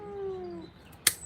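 Maine Coon cat meowing during a bath and grooming session: a single drawn-out, falling meow, close and clear, followed by a sharp clatter.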